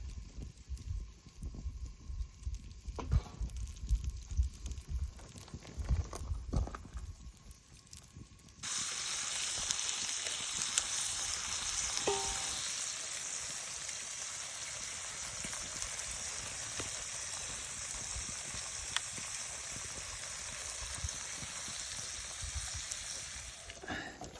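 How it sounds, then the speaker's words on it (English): Butter sizzles around bear steaks in a pan at a desert campsite. A soft background hiss jumps into a loud, steady, close sizzle partway through, with no talking over it. "let that butter jump around in there"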